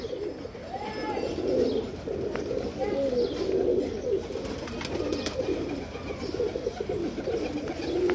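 Pigeons kept for a flying game coo repeatedly in soft low rolling calls close by, with faint chirps and light rustling in the background.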